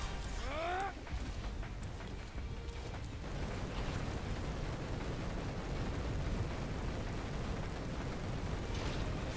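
Booming explosions from exploding soldiers in a Final Fantasy game, a dense rumbling blast texture that fills the whole stretch at steady loudness, with a brief whooshing chirp near the start.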